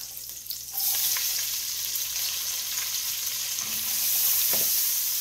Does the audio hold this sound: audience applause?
no